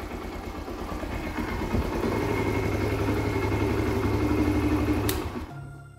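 A Yamaha XTZ 125 motorcycle engine runs steadily nearby, rising from a chugging idle into a sustained higher rev before cutting off abruptly near the end.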